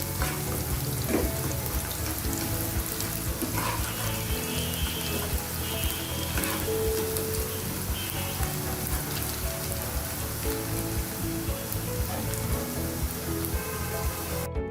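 Bay leaves fry in hot oil alongside cardamom pods, giving a steady, dense crackling sizzle close by that holds evenly throughout with no pauses and no voices.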